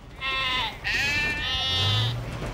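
Cartoon children imitating goats with a run of loud, wavering, nasal bleats one after another, close and clear over a low background.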